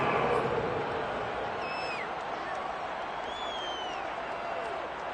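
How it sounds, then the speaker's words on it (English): A football stadium crowd roars steadily ahead of a big third down, a broad, continuous wash of cheering with faint whistles rising over it throughout. "The crowd getting into it as we come up on a big 3rd down."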